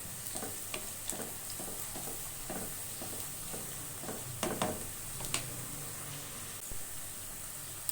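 Three or four cloves of finely chopped garlic fry in oil in a pan, a steady soft sizzle broken by a regular tapping from a stirring utensil, close and fairly quiet, with no voices.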